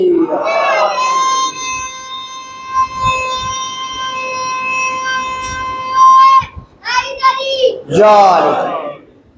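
A religious gathering answers a call for the Haidari slogan with loud sustained chanting, a long drawn-out unison cry followed by shorter shouted bursts from the crowd.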